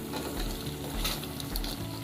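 Pigeon meat for a restaurant-style bhuna sizzles steadily in a pan while being stirred, with soft scraping strokes over the hiss of frying.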